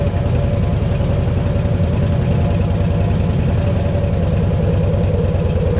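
A Voyager trike engine runs cold at a steady idle, close and loud, with a constant low rhythmic throb and no breaks.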